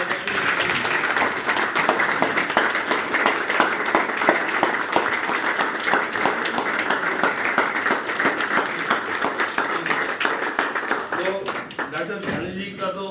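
Standing applause from an audience at a college farewell, with steady, dense clapping sustained close and loud for many seconds before thinning at the end, with voices underneath.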